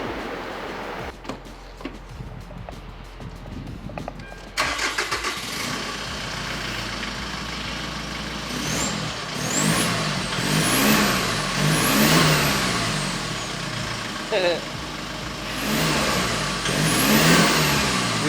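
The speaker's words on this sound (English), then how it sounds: "We have whooshy turbo noises." Hyundai iLoad turbo diesel van with a straight-through exhaust and new intercooler cranks to life, then idles and revs repeatedly, each rev rising into a loud turbo whoosh and whistle, close and steady.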